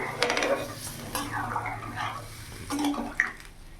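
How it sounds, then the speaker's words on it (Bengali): Water poured into a cooking pot of spiced katla fish curry with ridge gourd and potato, a close splashing gush with clinks of the pot and utensils, brief and uneven. "এবার আমি জল ঢেলে দেবো।"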